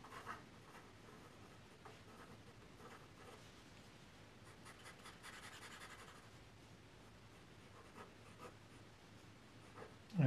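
A fountain pen with an ogive nib scratches across paper in soft, continuous strokes with faint rhythmic scraping, quiet and close, with no talking.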